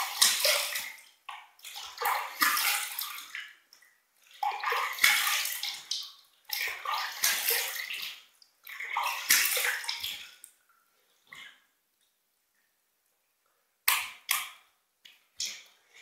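A tap runs in bursts while a razor is rinsed between shaving passes. There are several short splashy gushes separated by pauses, close and fairly quiet, and nobody speaks.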